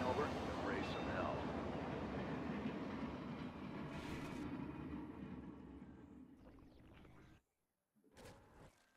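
A train in the StarCraft 2 video game rumbles along with a steady rolling roar and faint clatter for several seconds, then cuts off abruptly. A short burst of other game sound follows.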